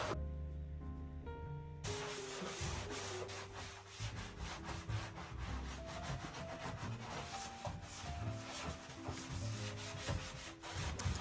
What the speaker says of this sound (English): So I'll be going in with some vinegar and this magic scrub mummy and microfiber cloth and try and make these things clean.